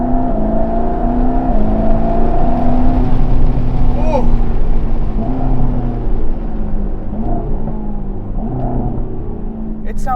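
A 2021 Mercedes-AMG GT Black Series engine drones from inside the cabin, partly piped-in sound, steady and fairly loud, with shifting tones as it revs; a voice briefly exclaims.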